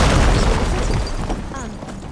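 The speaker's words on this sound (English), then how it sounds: "would you mind warning me next time you decide to, blow up a wall?" A wall blown apart in Horizon Forbidden West, a loud close boom with deep rumbling debris that fades over a couple of seconds.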